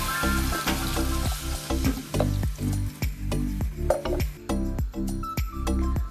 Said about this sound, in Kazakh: осы туралған картошка, пияз, сәбіз, помидор, болгарский бұрыш болса болгарский бәрін турап, қызып тұрған майымызға жақсылап қуырып аламыз